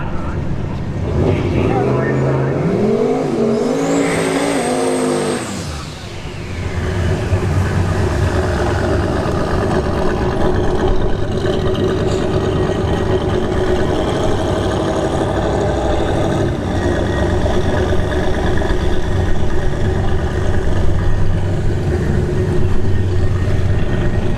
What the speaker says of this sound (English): Bring the turbo box body up again for a single shot.